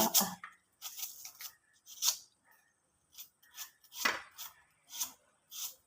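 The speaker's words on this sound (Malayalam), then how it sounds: "കയ്യെ വെച്ച് അരിയാൻ പേടി എന്നാലും അരിയുക" Ginger is sliced by hand with a knife in a home kitchen, making a series of quiet, crisp cuts in irregular bursts with short pauses between, close and alone.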